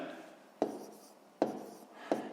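A pen writing out long division by hand on paper for a sixth-grade maths exercise, faint close scratchy strokes broken by three sharp taps of the pen.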